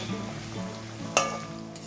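Onion, garlic and green chillies fry in a pan with a steady, soft sizzle, broken once by a short sharp clink partway through.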